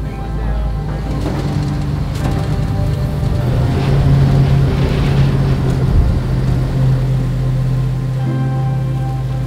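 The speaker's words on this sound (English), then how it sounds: "is a massively modified four-wheel drive truck powered by a V8 motor mated to an automatic transmission." A heavily modified four-wheel-drive swamp truck with a V8 engine and automatic transmission drones steadily and loudly, a continuous low engine rumble with wind and water noise throughout.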